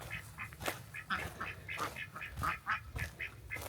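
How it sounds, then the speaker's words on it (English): Ducks quack in a lively garden setting, a busy cluster of overlapping nasal calls in quick irregular succession, fairly close and continuous. "Hey duckies!"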